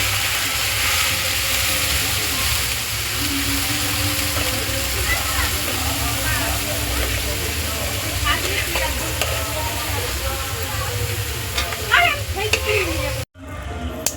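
Dal sizzling and frying in a hot pan, a steady crackle under a constant hum of background noise, with occasional stirring scrapes and voices talking nearby.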